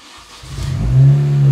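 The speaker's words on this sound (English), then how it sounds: "If I start the car," A Mini Cooper with dashboard faults starts up: a low engine rumble builds after a short pause and settles into a steady, close idle with a rising hum.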